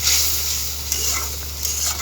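A ground paste of coriander leaves, green chilli and onion fries gently in oil, giving a soft continuous sizzle with faint scraping stirs, with a steady low hum underneath.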